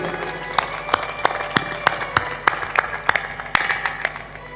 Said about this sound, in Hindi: तालियां ऐसी बज रही हैं